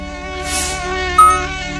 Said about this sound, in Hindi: मच्छर कान के पास आकर क्यों भिनभिनाते हैं, क्यों आवाज निकालते हैं